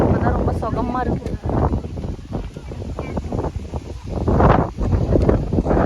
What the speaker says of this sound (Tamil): காற்று இப்போதான் ரொம்ப சுகமாக இருக்கு.